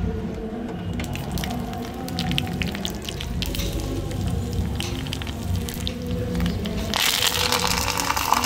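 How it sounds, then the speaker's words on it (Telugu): Tempering seeds sizzle in a tablespoon of hot oil in a well-heated pot while making raw gongura roti pachadi: a steady, close, broadband frying hiss that runs the whole time and swells a little louder near the end. "గిన్నె బాగా వేడెక్కాక 1 టేబుల్ స్పూన్ నూనె తీసుకొని తాలింపు గింజలు"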